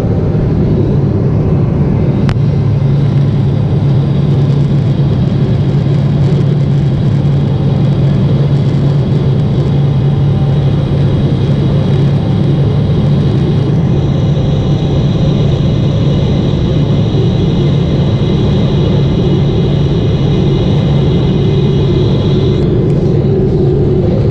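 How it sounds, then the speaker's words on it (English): A United airliner, Flight 179 bound for Hong Kong, takes off from Newark runway 4L, heard from inside the cabin as a loud, steady low engine roar and rumble that holds throughout. "Took off on runway 4L, I believe it was, 4L, so took off on a 40-degree heading to the northeast."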